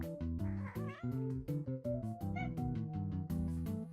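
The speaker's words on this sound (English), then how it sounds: "there's a lot of kitties." Several cats meow in Slime Rancher 2 over steady game music, short mewing calls repeating close by while the tune keeps playing underneath.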